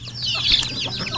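Chickens cluck close by in a short, busy burst of overlapping calls.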